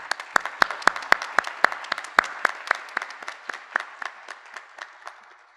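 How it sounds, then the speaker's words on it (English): Applause for faculty at a university honors convocation: a small scattering of hands claps in a loose, uneven rhythm, fairly close, and gradually thins and fades over several seconds. "And let's please give them a round of applause."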